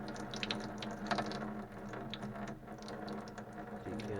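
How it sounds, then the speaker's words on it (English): Liquid containing sulfur is decanted and poured through a filter in a home chemistry setup, giving a steady close trickle and splash of water for several seconds, with faint clinks of glassware. "Pour it through the filter just to catch any sulfur that might be in there."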